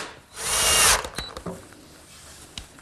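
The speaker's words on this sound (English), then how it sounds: "tack it with some brads, and permanently attach it with some screws" A power drill drives screws into plywood in a workshop: one short loud whirring burst lasting about half a second, followed by a few faint clicks and knocks.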